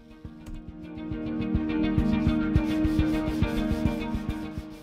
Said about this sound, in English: it was just as difficult to sand these inside areas as it was to carve them